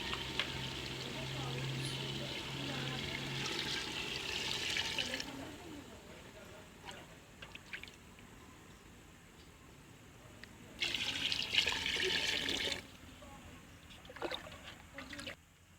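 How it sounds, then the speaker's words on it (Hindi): Water gushes and splashes steadily into a pot of rice for several seconds, fades to a quieter trickle, then surges again briefly before stopping. "पानी हमने डाल दिया है इसके अंदर"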